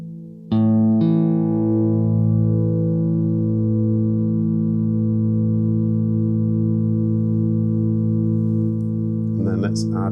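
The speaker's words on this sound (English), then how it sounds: "You get a really nice reverb out of that if you don't add in the grain positions." Sustained tonal chord with shimmering harmonics swelling through a SOMA COSMOS reverb without grain position noise, holding steady and loud for several seconds before brief clicks and bright transient bursts near the end.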